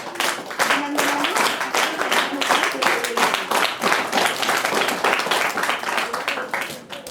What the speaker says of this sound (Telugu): మరొకసారి పిల్లలు చప్పట్లతో వాళ్ళకు అభినందనలు